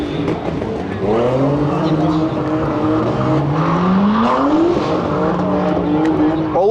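Cars drift in a drift tent at a car show, engines revving loudly with rising and falling pitch and tires squealing, heard at moderate distance amid a noisy crowd.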